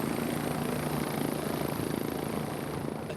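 A helicopter's rotor and engine drone steadily, a dense rumbling wash that stays constant throughout.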